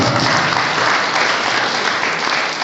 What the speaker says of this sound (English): Please welcome on the stage Sulaiman Baloch with your own clap.